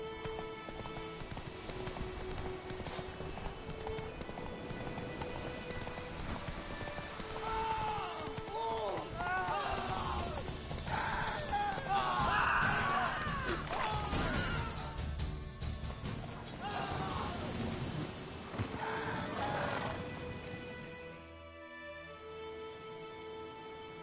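A horse gallops with rhythmic hoofbeats throughout in The Witcher video game, a continuous clip-clop with game music and ambience layered under character dialogue and a soft whinny.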